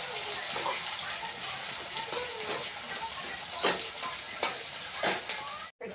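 Chopped onion frying in a pan, a steady broad hiss of oil with a few louder stirring scrapes near the end and a brief drop to silence just before it finishes.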